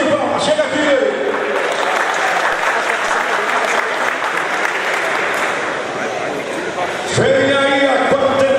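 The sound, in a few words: audience applause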